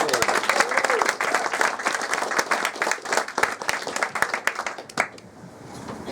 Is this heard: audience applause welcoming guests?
yes